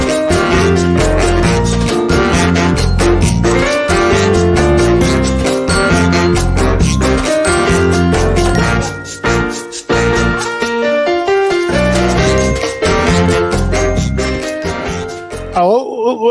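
An intro jingle for a live virtual happy hour show plays as dense, continuous music with steady beats, loud and alone for about sixteen seconds, briefly dipping midway before ending.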